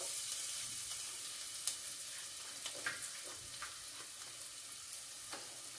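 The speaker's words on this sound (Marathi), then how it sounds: "तेल गरम झालेलं आहे, मी त्यात कांदा ऍड करते।" Chopped onion for a Maharashtrian bangda (Indian mackerel) curry sizzles steadily in hot oil, a close, continuous hiss with faint crackles and pops and no talking.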